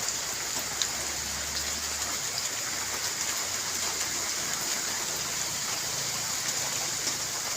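Rain falls steadily on a rainy morning, a constant dense hiss of drops hitting surfaces, moderately loud and unchanging with no voices.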